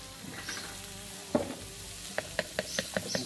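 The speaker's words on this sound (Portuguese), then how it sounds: "Agora a gente vai dar aquela douradinha aqui na cebola" Chopped onion frying in a pan as it browns, a soft steady sizzle with a few sharp clinks and scrapes of a utensil stirring, close and quiet with no talking.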